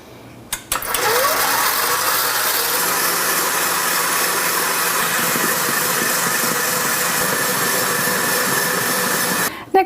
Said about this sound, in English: turn your mixer up to high speed and whisk for about 8 to 10 minutes